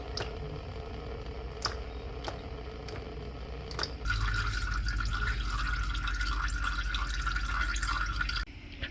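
Transmission oil draining from the DCT gearbox of a 2011 Ford Focus LW turbo diesel, first a series of separate drips, then a steady, louder pouring trickle that continues until it stops near the end.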